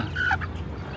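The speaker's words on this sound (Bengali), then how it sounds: "এই যে রায়ানের কোয়েল পাখি।" A quail gives a short, high call that warbles briefly over a steady low background hum, close by and fairly clear.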